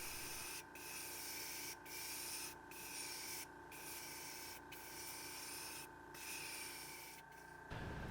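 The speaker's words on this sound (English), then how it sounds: "I'm just going to spray some of this white pearlescent color into this transition area." A steady airbrush hiss of white pearlescent paint being sprayed onto a wooden paddle-tail fishing lure runs continuously, broken by several brief pauses where the spray stops and starts again, fairly quiet and close.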